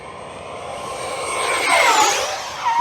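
An FMS Yak 130 70mm RC jet makes a high-speed pass, its ducted-fan whine building to a loud peak with a sharp pitch sweep as it rushes by, then fading.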